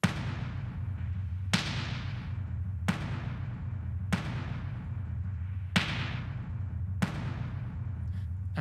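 Six deep, booming explosions land at a steady pace about every second and a half, each one muffled and dark, with a rumbling tail fading between hits.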